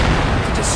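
Radome being destroyed in the video game Metal Gear Solid: a loud, sustained rumbling explosion with crackling debris filling the short moment, close and heavy.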